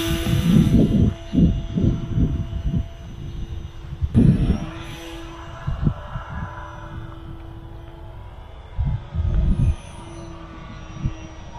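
A small radio-controlled Extra model airplane with its landing gear removed, flying with an underpowered electric motor: a steady, thin motor whine runs throughout, with gusty bursts of wind noise rising over it at intervals.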